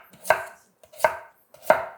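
Three crisp knife chops cut Korean radish into 1 cm pieces on a cutting board, evenly spaced about two-thirds of a second apart, close and alone.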